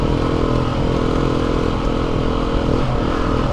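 A motorcycle rides along a road on Salisbury Plain near Stonehenge with a steady, loud engine drone and wind rush, the tone constant throughout with no voices.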